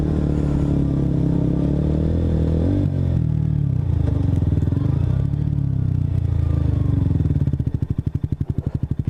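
A KTM RC125 motorcycle idles and rumbles at close range in the rain as it is maneuvered into a parking spot, the engine note steady, then pulsing into a slow, lumpy putter near the end, with clatter and faint voice.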